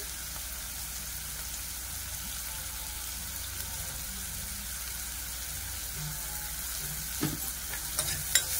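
Green chillies fry in a pan for a kaju butter masala curry, giving a steady, even sizzle throughout, with a few soft stirring knocks near the end.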